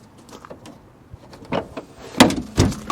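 Split tailgate on a 2010 Volvo XC90 being opened, with a few close mechanical clicks and latch clunks, then two louder thumps as the panels release and swing.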